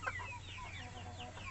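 Red hens on a small farm cluck and chirp close by, a steady chatter of several birds over a low hum, with no talk.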